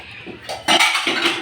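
Metal milk pots and vessels shifted about in a home kitchen, a few short close clanks and knocks over a brief moment.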